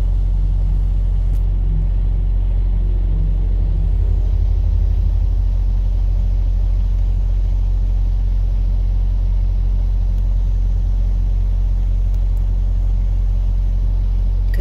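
A heavy truck hauling a wind turbine blade swings around a corner, a loud, continuous low engine rumble that holds steady throughout.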